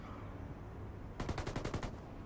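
Gunfire in a Rainbow Six Siege-style tactical shooter match: a rapid burst of about eight sharp automatic shots in the second half, fairly close, over a low steady game ambience.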